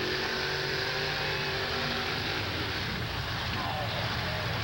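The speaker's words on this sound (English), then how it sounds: "the Mustang, Jim Dara, a 67 Mustang with a 460 cubic inch Ford engine" A 1967 Mustang mud racer with a 460 cubic inch Ford engine makes a dense, loud, unbroken roar at a 1990 mud and monster truck event in San Diego, with a voice partly audible over the noise.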